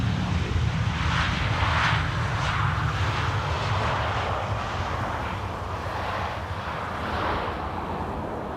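An airliner touches down on Schiphol's Polderbaan runway 18R and rolls out, giving a loud, rumbling jet roar that gradually eases with some wind buffeting, and no one speaks.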